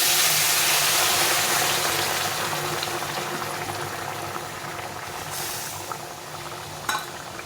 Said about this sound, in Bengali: খুব একটা ঝোল করবো না তো ঝোলটা ফুটে গেলে মাছটা দিয়ে দেবো ঝোলটা ফুটে গেছে